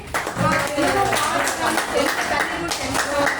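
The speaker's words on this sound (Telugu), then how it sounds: "క్లాప్స్ కొట్టండి" Children clapping together at a school Telugu Language Day recitation event: a dense, steady burst of applause lasting a few seconds, with voices mixed in underneath.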